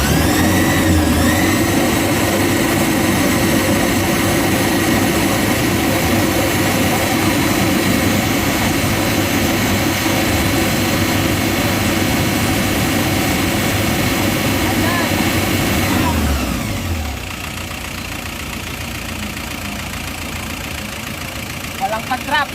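Isuzu Trooper engine with zero oil pressure held at a steady 3,000 RPM, a loud continuous drone with a constant pitch that drops abruptly near the end as the revs fall to a quieter idle.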